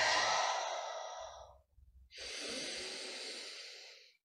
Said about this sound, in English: Take three breaths.